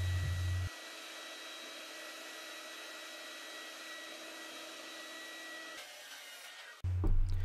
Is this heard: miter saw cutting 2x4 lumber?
yes